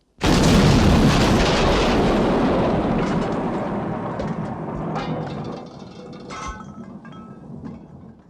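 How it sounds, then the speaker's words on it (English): Two barrels of gunpowder explode inside a dwelling, giving one sudden loud blast followed by a long rumbling roar that slowly dies away over several seconds. "The dwelling was rocked by a powerful explosion caused by gunpowder"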